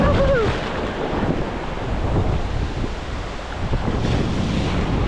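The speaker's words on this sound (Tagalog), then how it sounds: "Kaya maalon." Waves roll and wash in shallow sea water at a fishing spot, a steady close surf mixed with wind buffeting the microphone, with no talking.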